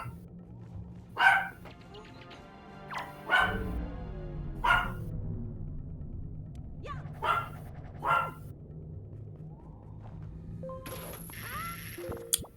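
Dogs in The Wind Waker video game bark in spaced single yaps, about five separate barks over game background sounds and music, mid-loud and fairly close.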